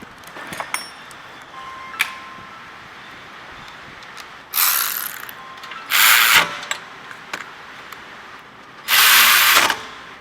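A fast ratchet tightens the rear brake caliper bolts on a Volkswagen with electric parking-brake calipers, giving three loud bursts of rapid clicking separated by quieter handling noises and clinks, close up.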